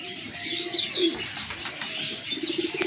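Hira Lal breed pigeons cooing at a breeder's loft, low repeated coos of several birds close by, with lighter chirps and a steady background hiss, no talking.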